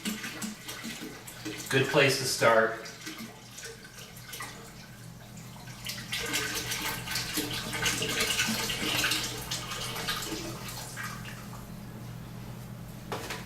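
Tap water runs steadily into a container holding a homemade hydroponic garden, a continuous close gushing stream with brief louder splashes early on, under occasional spoken remarks.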